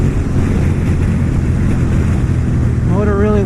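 Honda RC51 V-twin sport motorcycle cruising in sixth gear at 65 mph and 4,000 rpm, a steady low engine drone heavily mixed with wind rush, with a rising whine near the end.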